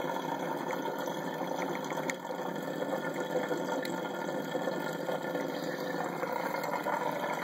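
Water draining out of a 75 gallon aquarium through a Python drainer, a steady, fairly noisy broadband rush and gurgle that continues without pause.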